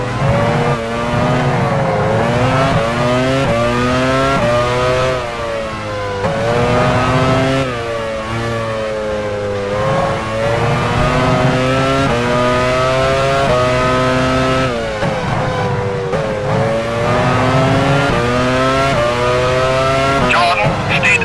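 A race car in the F1 Challenge 99-02 video game at the 2000 Hungarian Grand Prix, Hungaroring, its engine whining steadily and stepping through gear changes as it drives into the pit lane, loud and close throughout.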